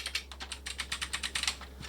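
Rapid typing on a new mechanical keyboard built for Atari 600XL and 800XL home computers, a close run of crisp, evenly paced key clacks with no voices.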